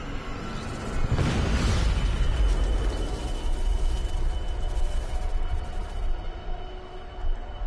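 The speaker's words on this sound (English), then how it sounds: "Ooh, big explosion." A large explosion in the video game Deus Ex: Mankind Divided bursts in with a loud, deep boom around the one-second mark, then settles into a sustained rumbling roar with debris-like crackle that continues to the end.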